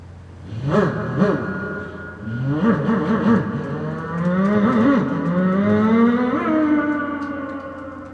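At a night festival performance in Gunsan, a voice imitates a racing motorcycle, rising and falling whining revs in repeated bursts that climb to a long, high engine scream.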